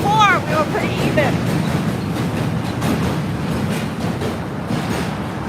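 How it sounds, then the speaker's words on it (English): A J train rumbles along the Williamsburg Bridge at night, running below the pedestrian walkway, its steady roar filling the clip with brief squealing tones near the start and a voice talking over it. "So now the train is like below us."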